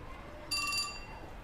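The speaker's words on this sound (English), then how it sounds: "Just then, Minokawa's phone chimed." A short, bright electronic chime sounds once on a phone receiving an email in 428 Shibuya Scramble, a clean tonal ring lasting about a third of a second over quiet background hiss.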